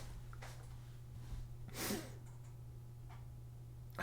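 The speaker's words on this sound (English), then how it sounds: "Oh, I'm gonna sneeze." A single close sneeze bursts out sharply about halfway through, over a quiet room with a steady low electrical hum, with no talking.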